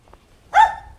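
A single loud bark from a guard dog bursts out close by, preceded by faint background noise.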